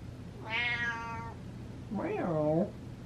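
Two drawn-out meows come from a hungry cat, close and fairly loud, with a short pause between them and a faint low hum in the room.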